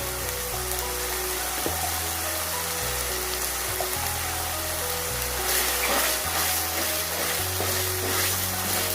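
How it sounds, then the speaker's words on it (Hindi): Yogurt added to qeema (minced meat) frying in separated oil in a pot: a steady, close hiss of sizzling with crackling bursts, continuous throughout, and a low tonal hum underneath. "अब हम इसमें तकरीबन 4 से 5 खाने के चम्मच योगर्ट डाल देंगे।"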